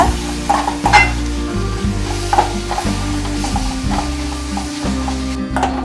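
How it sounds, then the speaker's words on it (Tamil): Onion tomato chutney sautéing in a pan, stirred with repeated scraping and clinking strokes over a continuous sizzle, close and fairly loud, no voices. "கொஞ்சம் அந்த பச்சை வாசம் போகிறது வரைக்கும் கிளறி விட்டுக்கோங்க."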